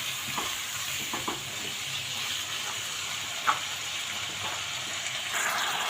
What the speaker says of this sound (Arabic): نفضل بقى نقلب فيها لحد ما كلها تاخد اللون الابيض.